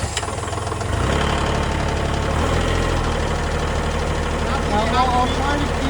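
A tractor with loader and excavator idles with a steady low rumble and knocking throb, close by and continuous throughout.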